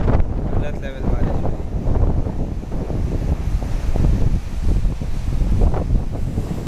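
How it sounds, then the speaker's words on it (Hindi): Strong gusting wind with rain buffeting the microphone outdoors, a loud, constant roaring rush with surging gusts throughout. "इतनी तेज़ हवा के साथ बारिश आ रही है भाई, देख रहे हो?"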